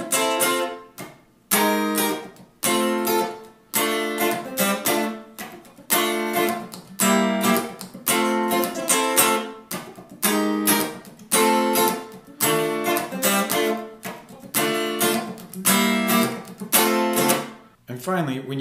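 Guitar plays the funky chorus of a song: choppy, rhythmic chord stabs in short repeated bursts with brief gaps, close and clear, with no voices.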